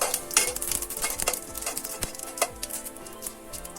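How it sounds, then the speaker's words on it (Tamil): Cumin seeds sautéing in oil on a medium flame, with a soft sizzle under scattered stirring scrapes and utensil clinks against the pan, close and fairly quiet with no talking. "ஸ்டவ்வை கொஞ்சம் மீடியம் ஃப்ளேமில் வச்சு வதக்கிக்கலாம்."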